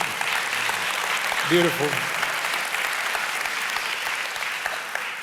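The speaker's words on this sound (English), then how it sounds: "We should clap for that" A church audience claps in sustained, even applause, with a brief spoken remark from one person heard over the clapping partway through.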